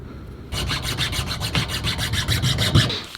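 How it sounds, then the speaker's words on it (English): Rhythmic back-and-forth hacksaw strokes cutting through bow tip overlay material, a steady series of close, raspy passes starting after a brief quiet moment and running to the end. "I'll just grab a hacksaw, clear out the excess material with a utility knife."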